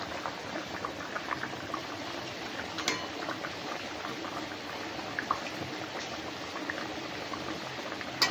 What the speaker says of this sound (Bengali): আমার এই যে ঝোলটা ফুটে উঠেছে